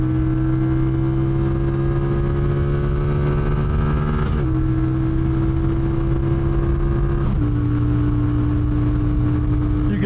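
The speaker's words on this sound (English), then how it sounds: "let's run her up. All right, so 92 is red line." A CFMOTO 450 motorcycle engine revs steadily toward its red line, a loud continuous drone that climbs in pitch with two abrupt shifts along the way, with no voices over it.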